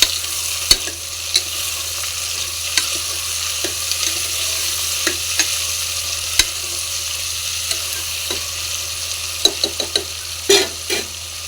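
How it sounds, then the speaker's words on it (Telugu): Spices and chopped onions sizzle in hot oil for a Telangana-style boti curry, a steady frying hiss broken by scattered spatula scrapes and light clicks against the pan, close and continuous with no voices. "ముందుగా ఆయిల్ హీట్ అయ్యాక మసాలా దినుసులు వేసుకోవాలి. ఆనియన్స్ వేసుకోవాలి."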